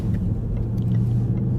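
Range Rover SVR engine rumbling steadily while driving, a low continuous drone close and moderately loud, no speech.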